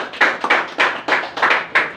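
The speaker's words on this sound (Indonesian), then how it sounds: "Tepuk tangan dulu Ajis Pak Pahan." An audience at a Christian gathering clapping hands in a brisk group rhythm, with about seven sharp bursts at regular intervals, close and fairly loud, with no talking over it.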